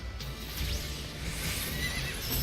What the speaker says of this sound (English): Oh, whoa, look at that horsey. Kelpie.